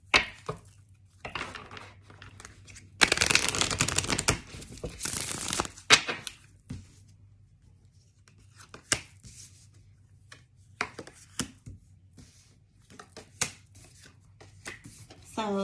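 Tarot cards being shuffled by hand in bursts of riffling, flicking and slapping, with one long dense shuffle in the middle and scattered short card snaps around it, close and fairly quiet over a low steady hum.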